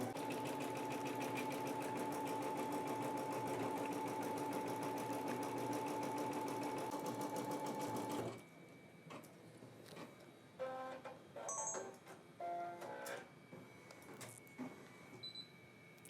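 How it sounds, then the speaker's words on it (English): A Brother embroidery machine stitches a design with a loud, steady, rapid mechanical whir for about eight seconds, then stops abruptly, leaving quiet room noise and a few faint electronic beeps. "The app is telling us it's done embroidering."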